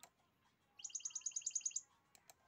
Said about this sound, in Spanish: se puede escuchar los jilgueros del campo